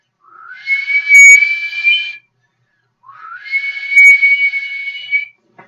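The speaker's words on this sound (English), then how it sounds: "Whenever I do that whistle, look who comes here, man." A person whistles to call an animal, two long whistles that each slide upward and then hold a steady pitch, loud and close, separated by a short pause.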